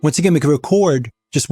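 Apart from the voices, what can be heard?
No everyday noise stands out behind the speech.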